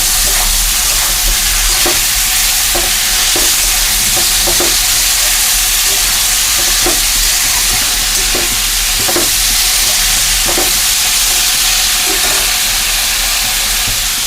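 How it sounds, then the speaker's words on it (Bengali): Vegetables frying in a pan for sambar, a loud, dense hiss of sizzling and steam that runs unbroken for the whole time, with faint periodic taps of stirring and no talking. "এখন আমি সবজিগুলা ঢেলে দেব বন্ধুরা।"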